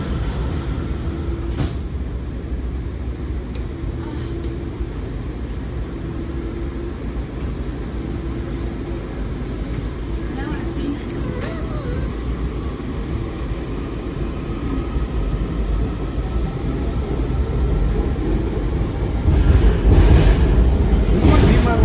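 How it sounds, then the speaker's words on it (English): WMATA Silver Line 7000-series train at L'Enfant Plaza station, with door chime tones, the doors thudding shut, and the train then pulling away with a growing rumble, heard from inside the car with talking. "Step back, doors closing."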